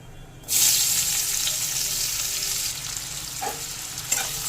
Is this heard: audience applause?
no